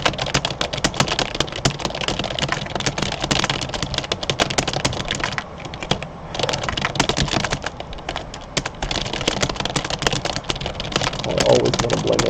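Rapid typing on a computer keyboard during a typing race, a dense, continuous clatter of close keystrokes that barely pauses, with a short lull midway before the fast clicking resumes.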